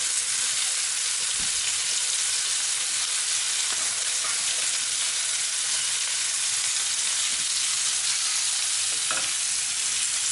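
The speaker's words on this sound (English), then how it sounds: "that's where that fat is rendering down, cooking and releasing that fat into pan." Lamb chops sizzle loudly in a pan as their fat renders down, a dense, unbroken hiss and crackle that stays steady from start to finish with no talking.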